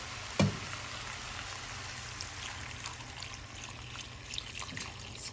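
Water poured into a pot of vegetable soup, a steady quiet trickle and splash with a brief louder splash near the start, continuing at low level throughout.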